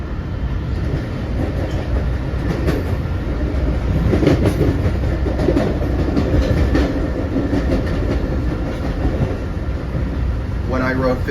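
Long Island Rail Road eastbound train passing close by, a steady loud rumble of rail cars with faint clickety-clack of wheels throughout.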